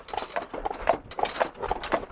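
A horse walks along a path during a grape harvest at Trausse-Minervois, its hooves giving a steady, close clip-clop rhythm of evenly spaced strikes.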